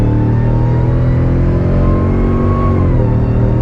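A Hellcat-swapped Dodge RAM 1500 towing a trailer revs hard toward redline at light throttle, a loud, steady engine roar that climbs slightly in pitch throughout, with no talking.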